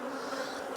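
Honey bees inside an open hive give off a dense, even buzzing drone for a brief moment, close and steady without voices.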